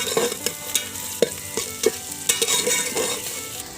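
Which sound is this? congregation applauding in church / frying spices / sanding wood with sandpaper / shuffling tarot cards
frying spices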